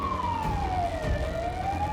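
An ambulance siren wails steadily at the scene of a deadly crash between a truck and a minibus in Purworejo, its pitch sliding slowly down and back up over constant traffic noise.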